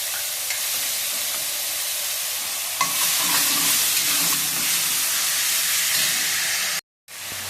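Dry chillies, white mustard seeds, ginger and garlic frying in hot oil, a steady loud sizzle and hiss that swells when more goes into the pan, with brief stirring and a short break near the end.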